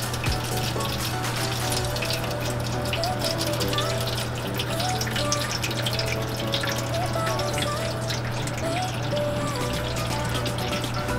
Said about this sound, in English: you're gonna get boiling water and then just pour it right onto the pan.